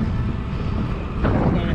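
Strong wind buffets an outdoor microphone on a windy evening bike trip near the Vistula Spit canal, a steady low rumbling roar that swells louder toward the end.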